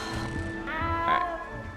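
A cat meows briefly in a fantasy video game, set against a steady background of game music and ambience, with the call rising faintly near the middle.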